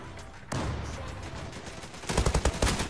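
Gunfire in the online shooter game Zula: a sharp shot, then rapid bursts of automatic fire, loud and close with no voices.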